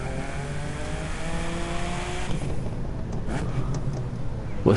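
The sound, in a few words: BMW car engine driving in video game The Crew 2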